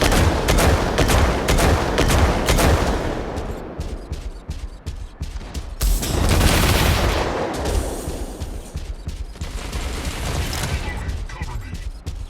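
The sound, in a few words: gunfire in the Mech Arena video game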